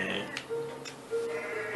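A goat in the Goat Simulator video game gives a couple of short, nasal bleats close up, fairly faint and alone.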